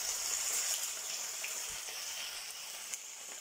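Chicken pieces frying in hot oil in a pan, a steady close crackling sizzle that fills the whole stretch without talk, with small pops and bubbling spikes rising through it.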